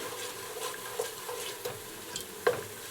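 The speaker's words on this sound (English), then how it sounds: "So move the garlic around a little bit." Garlic sizzles in oil for an Italian tomato sauce while being pushed around the pan, a constant frying hiss broken by a few soft scraping taps of the spoon, close and alone.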